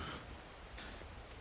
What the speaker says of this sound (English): Of course it begins to rain.